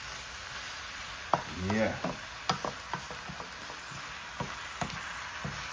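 Jamaican pepper shrimp sizzle in a hot pan under steady hiss, with repeated scraping stirs and clicks of a utensil; a voice briefly speaks near the start.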